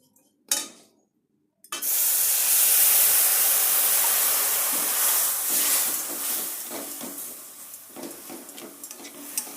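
After a couple of short knocks, water hits hot fried vermicelli in a pan and erupts into a loud hissing sizzle of steam that slowly settles into softer bubbling crackle with a few stirring sounds.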